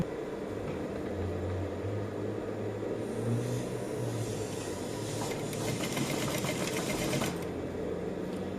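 A sewing machine runs steadily while stitching a seam on women's trousers, a continuous close mechanical whir with a slight rise in rattle toward the end.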